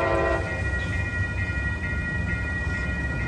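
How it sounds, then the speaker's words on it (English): Amtrak Capital Corridor train led by a Siemens SC44 Charger locomotive speeds past the 98th Ave crossing in Oakland, California, a loud close roar with a brief horn note at the start and crossing bell tones ringing through. "This is the 529 Capital Corridor train, speeding very fast to San Jose Dearborn Station."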